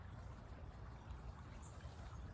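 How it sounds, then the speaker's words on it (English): Steady water rushing and trickling continuously over rocks, a soft low wash of flowing stream with no voices. "perhaps of the water flowing over the rocks"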